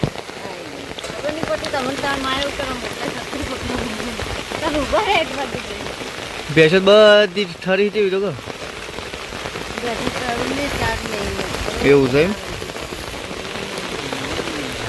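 Heavy rain patters steadily on surfaces outdoors during buffalo milking, a constant wash of drops close around, while someone talks over it.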